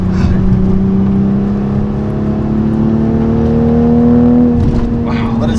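A 2020 Toyota Supra with a power plug tune accelerating at full throttle, a loud, steady engine drone climbing smoothly in pitch before easing off near the end, with a voice briefly heard over it.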